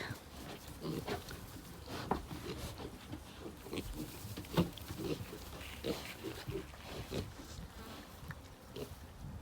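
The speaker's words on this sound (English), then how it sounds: "Come on, Mama pig." A mother pig on a ranch grunts repeatedly, close and fairly steady, with a faint buzz of insects in the outdoor background.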